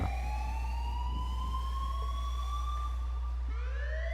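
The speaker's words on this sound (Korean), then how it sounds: "지금은 사이렌 울리긴 하죠" A police siren wails in GTA 5 Online, a steady rising-and-falling electronic tone held throughout over a constant low engine hum, with the pitch sweeping up again near the end.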